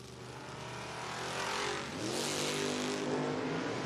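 Door-car drag racers launch side by side down the strip at a Door Wars event, a loud engine roar that builds and rises in pitch as the cars accelerate away, with no one talking.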